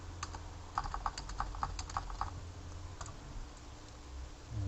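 A computer keyboard clicks in a quick, steady run of keystrokes, close and clear, then trails off into a few isolated taps with no speech.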